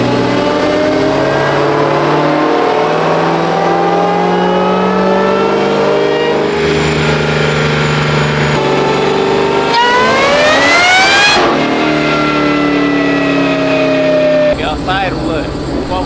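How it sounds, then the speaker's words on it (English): A high-horsepower car engine being broken in on a dyno revs hard and loud, pitch climbing steadily through pulls with a sharp rise near the end, continuous and close. "right now, we're breaking in the engine on the dyno"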